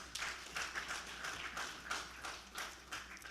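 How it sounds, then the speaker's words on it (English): Applause at a formal development policy event in Uganda, faint and distant, a thin scattering of claps pulsing in small bursts across a few seconds. "Please, a round of applause."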